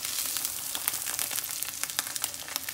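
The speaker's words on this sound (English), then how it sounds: "I'm gonna move these eggs around just so the grease gets on them and it's nice, evenly cooked" Eggs frying in grease in a pan over high heat give a steady close sizzle, with scattered sharp pops and crackles spread through it and no talking.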